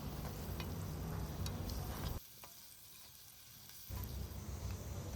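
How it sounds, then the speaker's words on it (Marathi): Onion and ground garlic fry in hot oil while being stirred for Agri-style mutton rakti, giving a steady broadband sizzle that drops to a quieter hiss for about two seconds midway, then returns at full strength. "त्यानंतर त्यामध्ये वाटून घेतलेला लसूण आहे तो टाकून घेऊया आणि सर्व मिश्रण"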